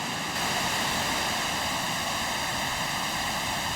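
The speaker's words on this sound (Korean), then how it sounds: "Şu gördüğümüz şelale dünyanın ikinci harikası." A large waterfall in Türkiye roars as a dense, unbroken wash of falling water, loud and steady throughout with no voices.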